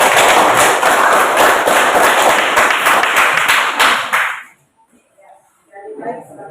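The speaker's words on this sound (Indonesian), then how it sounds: "Mari kita beri aplaus kepada kelompok 1." A classroom group claps together for several seconds, a dense, loud burst of applause that stops abruptly, followed by faint voices.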